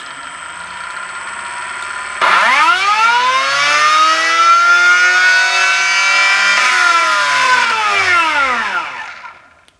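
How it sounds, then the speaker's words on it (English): ESC-driven motor on a MiniPro dyno spinning up with a rising whine that holds at high pitch, then sweeps down as it brakes and fades out, preceded by a faint steady tone. "it accelerated from maximum RPM and then hit the brakes"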